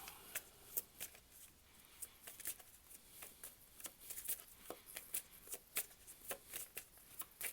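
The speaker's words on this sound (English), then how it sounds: "3 cards, please." Tarot cards riffled and shuffled by hand at close range, a steady run of soft crisp flicks and slaps with no talking, quiet overall.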